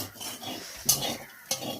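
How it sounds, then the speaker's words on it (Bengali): Potatoes fry in a pan while being stirred, giving soft scraping and stirring sounds with a low sizzle and two sharper clinks of the utensil against the pan. "আলু ভাজা।"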